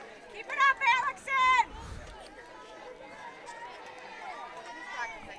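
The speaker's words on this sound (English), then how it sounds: "A full crowd here in the bleachers for both sides." Fans fill the bleachers at a WIAA high school softball sectional semifinal, a distant murmur of chatter and cheers under a close announcer's voice, with a short burst of shouting near the start.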